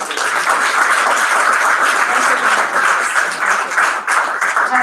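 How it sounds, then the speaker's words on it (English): A room of listeners gives a loud, sustained round of dense applause for a volunteer speaker at a talk event. "Another round of applause, please"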